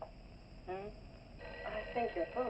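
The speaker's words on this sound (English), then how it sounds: "I think your phone is ringing." A telephone rings in short, faint, repeated bursts of electronic trilling over a low hum in an office, with a voice speaking softly in between.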